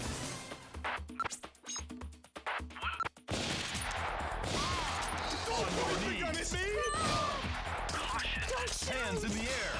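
Gunfire rings out in the Ghost Squad light gun video game during a hostage rescue: a dense run of rapid shots at first, then continuous game noise with chatter and voices over it.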